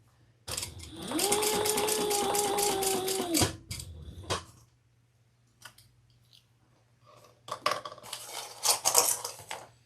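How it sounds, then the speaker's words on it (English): A sewing machine top-stitches a handbag in a steady mechanical whir with a rapid ticking needle rhythm, running for about three seconds, then stopping. Clicks and handling noises follow, and a second short burst of rattling work comes near the end. "now we're gonna top stitch. All right, let's top stitch."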